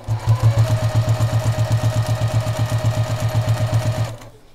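A sewing machine stitches quilt binding with a steady, rhythmic thumping pulse, close and clear, running for about four seconds before halting.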